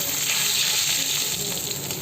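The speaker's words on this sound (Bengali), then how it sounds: "এখনো মাছটা ভাজা হচ্ছে" Fish frying in hot oil in a home kitchen, a steady close sizzle that holds at an even level throughout, with no talk.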